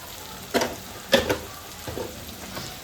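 Spices being fried in oil in a pan, a few short sizzling bursts and stirring scrapes standing out over a soft steady crackle, close and alone.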